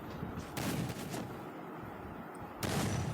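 Gunfire in the battle-royale game Free Fire, likely from an M80 rifle: a couple of loud broadband bursts, one near the start and one near the end, with quieter shot-like spikes and game ambience between them.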